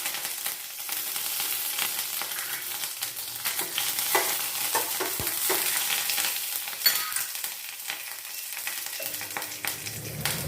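Cinnamon bark and curry leaves fry in hot oil, giving a steady, close crackling sizzle with light stirring scrapes throughout and no one talking.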